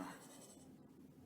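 A pencil shading a drawing of a male face on paper, a soft, faint, close scratching stroke lasting about a second.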